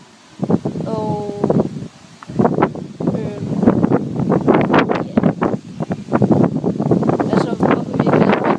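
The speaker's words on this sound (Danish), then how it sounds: "så det blæser lidt meget" Strong wind gusts outdoors at a school, a steady blustery rumble and buffeting running beneath nearly continuous talking throughout.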